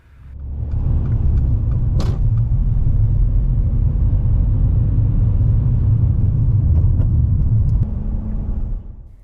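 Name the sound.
car pulling away during a driving test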